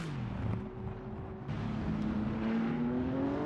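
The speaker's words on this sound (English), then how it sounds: "You can almost close your eyes and hear which type of car is going by." GT3 race cars in a sim racing game at Magny-Cours, engines droning past in a steady stream with a rising engine note, moderately loud and heard alone without talk.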